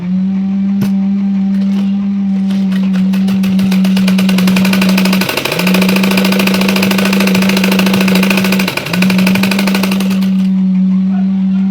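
A sewing machine stitching a blouse runs in a fast, steady whir for several seconds, with a constant motor hum underneath and brief dips where the stitching pauses, loud and close.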